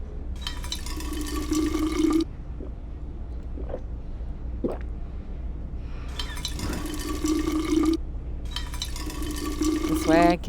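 Bottles fill with joy water in We Happy Few: three separate bursts of pouring, splashing liquid with a rising, hollow gurgle as each fills, separated by quieter gaps with small drips and clicks.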